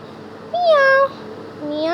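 Two short rising-and-falling meows, like a cat in a Doraemon hotel video game, though likely a human voice imitating the cat. The first is clear and close; the second trails off at the end.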